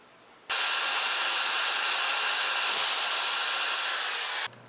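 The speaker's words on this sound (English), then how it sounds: "I'll use a 1/8 inch drill bit for this. Drill the hole at least 5/16 of an inch away from the edge of the cap" A 1/8 inch bit drills a vent hole through a plastic bottle cap, a steady high-pitched drill whine holding loud and even for about four seconds before cutting off.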